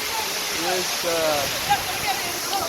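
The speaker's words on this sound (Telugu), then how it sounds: "Baahubali water fall" Devarapalli waterfall near Vizag, cascading over rock, a constant loud rushing roar filling the clip, with faint voices and whistle-like sounds over it.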